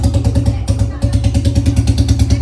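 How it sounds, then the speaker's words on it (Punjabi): A diesel tractor engine, just started, thumps in a fast, steady rhythm close by, loud and running continuously without pause. "ਚਲ ਵੀ ਇੰਜਨ ਦੀ ਆਵਾਜ਼ ਸੁਣਾ ਲੈ"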